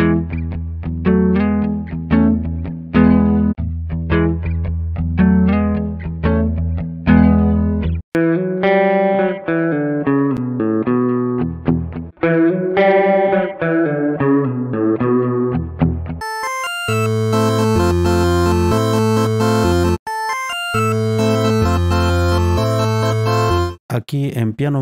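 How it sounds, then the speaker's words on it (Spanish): Martinic AX Chorus plugin demonstrated on a synth line, first a pulsing chord pattern, then a wavering, detuned melodic lead, then a bright chorused arpeggio sequence, all loud and continuous with no voice over it. "este chorus de la compañía Martinic. Este se llama AX Chorus"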